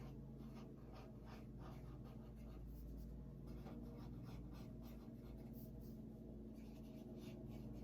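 Pen or marker drawing flowers on paper, soft repeated scratchy strokes close up against a steady low background hum, with no voice.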